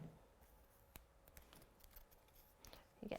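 Scissors snip and trim paper in a quiet indoor craft setting, a few faint, short cuts scattered across the moment with a slightly louder rustle at the end.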